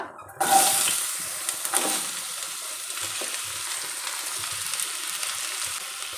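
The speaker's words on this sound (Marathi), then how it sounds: "आता आपल्याला यामध्ये घालायचे हा चिरलेला मुळा" Chopped radish hits hot oil tempered with asafoetida and breaks into a sudden loud sizzle. The sizzle then settles into a steady, close frying hiss with faint stirring clinks.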